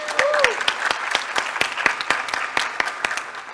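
Conference plenary audience at a summit giving presenters a round of applause, moderately sized crowd clapping with distinct individual claps standing out in an uneven rhythm, fairly close and steady for a few seconds.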